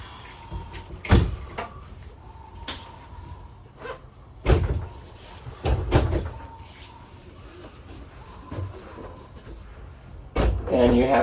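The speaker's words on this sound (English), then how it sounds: "Then to reverse it, we unclip our wall, close the door, and roll this back this way." A door on a Cyclone toy-hauler trailer shuts and a sliding interior wall rolls back, giving several sharp knocks and thuds among rolling and rattling noises, close up, with a person talking throughout.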